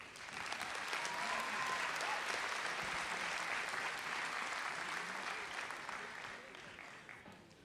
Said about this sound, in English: I think a big round of applause before we get started to them